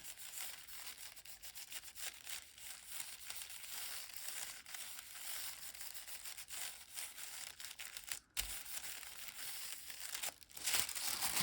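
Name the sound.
rubbing a piece of paper onto a mixed media piece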